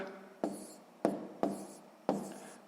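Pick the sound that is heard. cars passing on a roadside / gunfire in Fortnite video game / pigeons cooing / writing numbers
writing numbers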